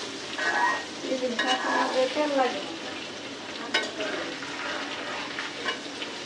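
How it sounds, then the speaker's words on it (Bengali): Fish fries in the oil it has released, producing a continuous bubbling sizzle and stirring scrapes, with a brief murmur of voices early on. "এই দেখেন মাছ কিন্তু অলরেডি মাছের তেলে ডুবে যাইতেছে।"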